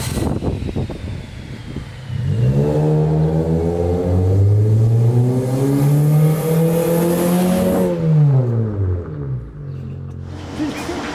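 A Honda Civic FC with a 1.8 engine revs hard and close, the tone sweeping up steadily, holding at a loud strained peak, then dropping quickly back toward idle, filling the whole stretch alone.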